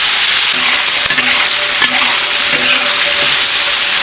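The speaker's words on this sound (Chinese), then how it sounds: "牛肉下锅" Beef stir-fried in a hot wok, a steady loud sizzle broken by a few scraping stirs of the spatula, heard close with no talking.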